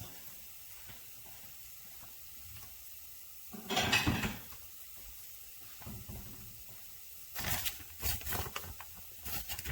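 Thin breaded pork chops deep frying in oil outdoors, a faint steady background sizzle punctuated by two louder bursts of crackling and hissing as oil spatters, with no talking.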